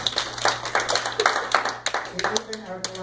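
A church congregation claps as an offering to God, with sharp, fairly regular hand claps running under a speaking voice throughout.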